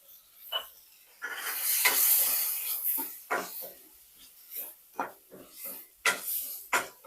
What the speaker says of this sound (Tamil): ஆனியனும் டொமேட்டோவும் நல்லா ஃப்ரை ஆயிடுச்சு